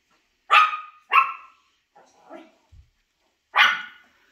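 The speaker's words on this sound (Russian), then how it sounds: "Самая громкая собака нашего питомника." A mini Australian Shepherd puppy barks sharply three times with pauses, interspersed with softer whimpering yips, close and loud in a quiet space at a dog kennel during its first bath.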